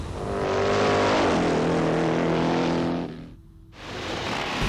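The Hogslayer drag bike's twin 750 Norton engines, about 150 horsepower apiece, roar loud and close in a sustained high-revving drone, cut off abruptly, then surge back in.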